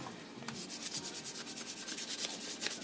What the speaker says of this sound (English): sanding all this. And this is going to take some patience, but this is the best way to make it as smooth and beautiful of a handle.